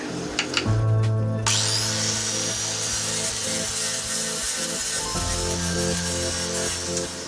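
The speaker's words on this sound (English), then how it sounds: "he's got the grinder out" A grinder on a boat whines steadily for several seconds with a high pitched scream and grinding rasp, pitch shifting partway through, close and loud.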